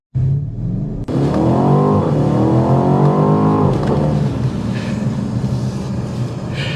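A 2024 BMW Alpina B8 Gran Coupe launches hard from a standstill, its engine roaring loudly and climbing through the revs before a gear change, then settling into a strong steady drone close by.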